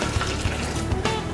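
Water poured gradually into a pot of soup with fried onion while cooking, a close, continuous splashing pour with a few soft low bumps.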